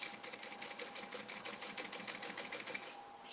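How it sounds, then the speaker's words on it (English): A sewing machine runs steadily at close range, stitching along the bottom of a tote bag, its rapid even chatter carrying on unbroken throughout with no voices. "we're stitching and double stitching, I might add, along the bottom"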